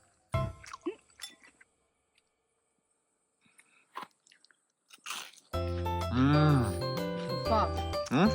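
Close chewing and biting of tteokbokki cooked over a wood fire in a country kitchen, soft wet squishy mouth sounds in short bursts, followed by a loud tonal passage of voices or music.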